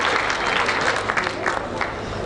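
An audience claps at a World AIDS Day 2019 launch event as a United Nations representative is introduced, a moderate, somewhat uneven round of applause.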